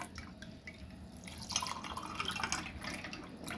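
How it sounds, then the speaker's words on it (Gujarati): Water is poured into a glass already holding ice, basil seeds and sugar powder for a sherbet, making a soft, continuous splashing trickle with dripping that swells slightly midway. "હવે આપણે રેડી દઈશું પાણી।"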